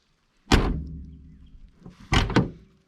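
The door of a Datsun King Cab 4x4 pickup is worked at close range: a loud metallic clunk as it opens, a creaking swing, then two more heavy thunks of the latch and panel, with no talking.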